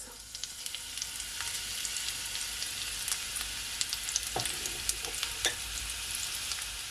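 Chopped onion sautéing in olive oil in a pot over medium heat, a soft steady sizzle with small crackles and pops, fairly quiet and close, with no voices.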